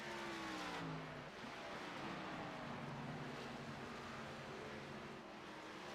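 ARCA stock race cars at Charlotte roar past with their engines at different RPMs, one noticeably lower than the other. The drone is steady and somewhat distant, with wind buffeting the microphone.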